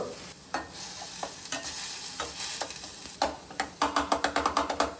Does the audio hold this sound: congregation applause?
no